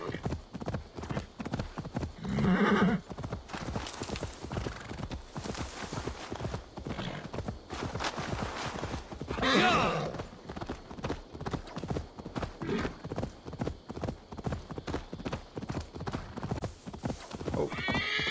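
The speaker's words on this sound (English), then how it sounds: "Definitely don't want to lose my horse in the water." Horse hooves clip-clop at a steady walking rhythm in the video game Assassin's Creed Valhalla, with two loud whinnies breaking in over roughly eighteen seconds.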